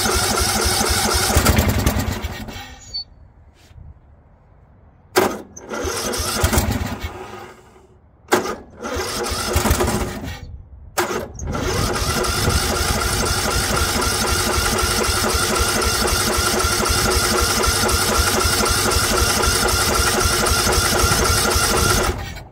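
A 2004 Murray 12.5 HP lawn tractor engine with carburetor trouble cranks and sputters in short bursts, then catches and runs steadily at quarter throttle, loud and close, with a continuous mid-pitched drone.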